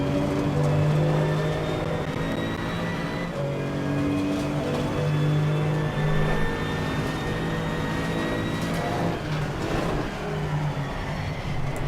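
A GT2 race car engine in a racing video game at Red Bull Ring, holding a steady droning tone with slight pitch steps as it shifts up, loud and continuous with no talk.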